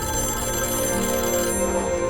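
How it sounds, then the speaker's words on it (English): The mysterious TVA office phone in Loki Season 2 rings with a steady, sustained electronic ringing tone, loud and unbroken, with no voices over it. "Who was calling that mysterious TVA phone in the future?"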